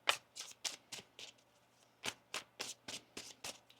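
A deck of tarot cards is shuffled up close in a series of quick, crisp riffles and slides, quiet and irregular, with no voices.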